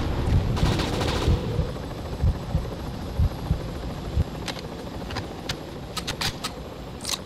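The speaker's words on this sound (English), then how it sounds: "The heli is attacking!" A helicopter attacks amid gunfire in the Chernobyl: Terrorist Attack video game, with a steady rotor-like rumble and repeated sharp shot bursts that cluster toward the end, with no speech.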